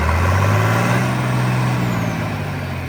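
A 1966 John Deere 4020 Standard tractor with a turbo, warmed up and idling steadily, its loud continuous diesel rumble holding close and even throughout with a low drone and no talk.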